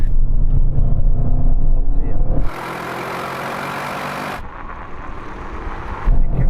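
A Tesla Model 3 and an Audi RS7 launch in a drag race, with a loud engine roar at the start giving way to a rushing, wind-swept acceleration that drops and surges again, while someone talks over it.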